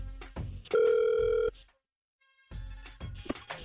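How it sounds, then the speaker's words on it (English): An outgoing telephone call sounds with a brief ring-back tone, then one loud sustained electronic ring, a short silence, and another ring starting as the line continues. "We're going to call Angela right now"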